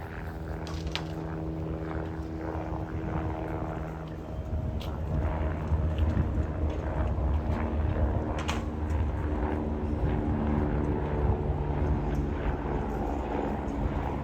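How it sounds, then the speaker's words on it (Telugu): Helicopter flying over the mountains near Kedarnath on the trekking route, a steady distant rotor drone holding throughout, rising slightly midway, with no talk. "హెలికాప్టర్ సౌండ్ అయితే వినిపిస్తుంది"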